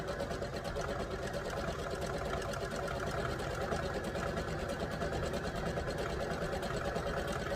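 Sewing machine stitching thick wrestling pants material with a combined straight and zigzag stitch: a steady, continuous rapid mechanical whir and clatter, close and even in loudness throughout, with no pauses.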